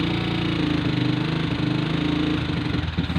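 A small engine with a 28mm carburetor running steadily, its air screw being adjusted. A close, loud droning hum wavers slightly in pitch without pausing.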